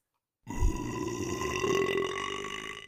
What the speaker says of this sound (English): He smiles at Clay and burps.